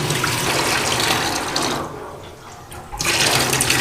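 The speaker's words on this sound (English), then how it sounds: "Now I can see some very dirty water coming out of the tank there." Dirty water gushing and splashing out of a motorcycle fuel tank being flushed during restoration, a loud continuous pour that briefly drops away before surging back in.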